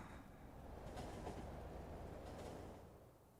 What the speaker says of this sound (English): My massive train.